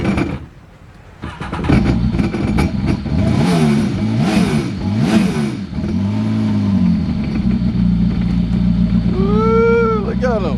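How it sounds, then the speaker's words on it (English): A jet ski engine cranks, fires up and runs loud and close, its pitch rising and falling with revs before settling, as a voice speaks over it. "once you start it, let it idle for a couple of seconds"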